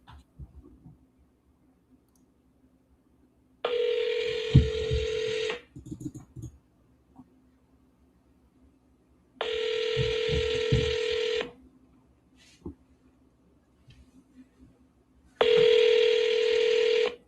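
A telephone call ringing out on the line, with three separate long ring bursts spaced several seconds apart and quiet gaps between them, with no talking.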